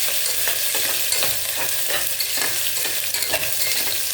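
Ginger garlic paste and green chilies sauté in a hot pan for a meal maker biryani, giving a steady, loud sizzle with a spoon scraping and stirring in a regular rhythm close by.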